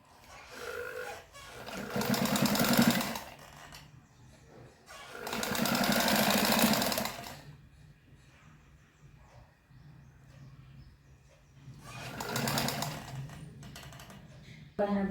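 A sewing machine stitches lace along the edge of fabric in three separate bursts of fast, rattling stitching, each lasting a couple of seconds, with quiet pauses and faint handling sounds between them.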